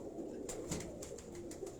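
A pet teddy pigeon at a farm house coos softly, low and steady over a constant background hum, with a few faint higher chirps from other birds.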